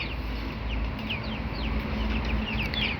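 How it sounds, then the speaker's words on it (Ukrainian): Young chicks clucking softly and repeatedly over a steady low background hum, short chirpy calls scattered across the few seconds. "Чи ти курочка, чи півник, не знаю."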